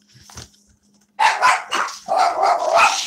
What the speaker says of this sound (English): I think hubby's back and the dogs are going crazy.